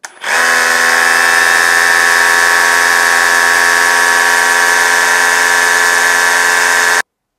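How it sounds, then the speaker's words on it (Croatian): A Ryobi RSDS18X SDS-Plus rotary hammer drill runs in hammer mode, giving a loud, steady buzzing whine with a rapid pulsing texture. It holds evenly for about seven seconds close to the listener, then stops sharply. "Broj obrtaja uz upotrebu čekića."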